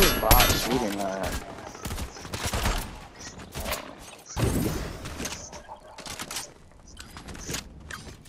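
Rapid gunfire from a computer-controlled bot rattles through a Zero Build squad match in a shooter video game, with bursts and scattered single shots over about eight seconds, mixed with game effects and a voice at times.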